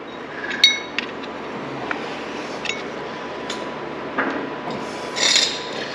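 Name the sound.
screwdriver working on a KTM hybrid motorcycle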